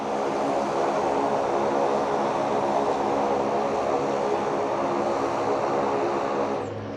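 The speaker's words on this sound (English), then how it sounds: "And there goes the plane speeding off. You'll see it get some air here in a second." A seaplane near Juneau, Alaska roars steadily as it speeds across the water to take off, a constant loud engine drone that eases slightly at the end.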